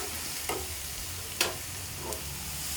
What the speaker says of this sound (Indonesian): kita tumis sampai harum ya kita tumis sampai harum